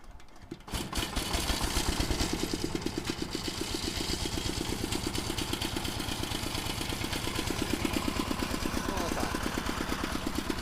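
A Zubr walk-behind tractor engine chugs steadily at low throttle after starting up, with a rapid, even putter that stays close and loud throughout.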